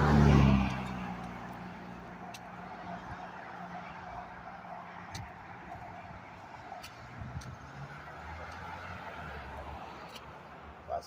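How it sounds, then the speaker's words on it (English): Road traffic on an outdoor walk before a hurricane, starting with a loud close rumble that fades into a faint, steady wash of distant cars passing, with occasional clicks and light sounds nearby. "I know when the traffic comes."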